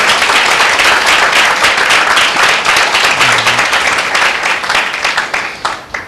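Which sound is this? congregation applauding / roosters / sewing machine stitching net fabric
congregation applauding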